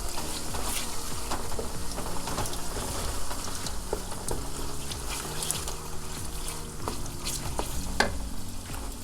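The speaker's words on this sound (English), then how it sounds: "I'm gonna add 2 eating spoons of tomato paste, stir it in, and see if I need to add more." Tomato paste being stirred into kidney beans frying in a pan for a Liberian-style dish, a steady close sizzle with scraping spoon strokes and occasional soft taps against the pan.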